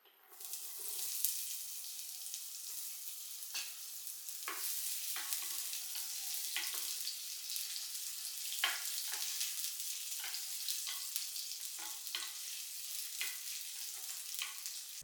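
Chopped onion pieces fry in hot ghee with cumin seeds, a steady hissing sizzle up close, with periodic scraping clicks as a ladle stirs the pan.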